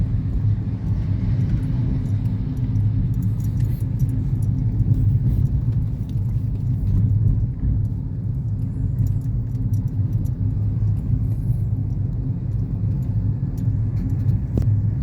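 Steady low road rumble from inside a moving car on a drive to a supermarket in Carmona, continuous and even throughout, with faint rattles and no voices.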